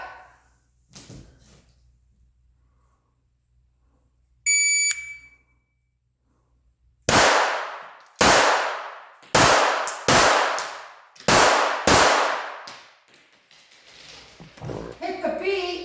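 Pistol shots from a Glock 42 and a Ruger LCP at an outdoor range, first a lone beep then a rapid string of about seven loud, sharp cracks, each trailing off quickly, with a brief voice near the end.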